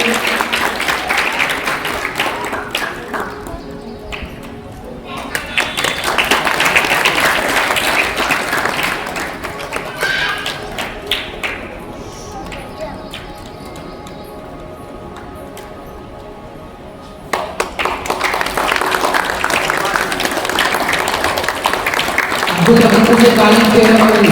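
Applause from a crowd at an outdoor World Yoga Day celebration with students, coming in bursts of dense clapping that fade and swell again, with voices talking over parts of it.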